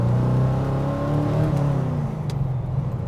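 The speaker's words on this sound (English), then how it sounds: "The noise and the push of the V8 from your back gives you that really exciting feeling" A GT40 Tornado's V8 drones loud and steady from inside the car as it drives, a deep rumble under a faint rising whine.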